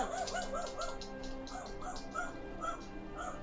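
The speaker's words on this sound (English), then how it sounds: "My dog's barking." A dog barks in a room during a session of the video game Skyrim Anniversary Edition, heard as repeated short yips and whimpering barks at moderate loudness, mixed with game sounds throughout.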